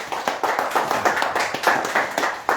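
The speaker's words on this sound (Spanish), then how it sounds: "Den un aplauso a Cristo" Church congregation clapping together at a Spanish-language service, a rhythmic run of roughly a dozen evenly spaced, fairly close claps heard without speech.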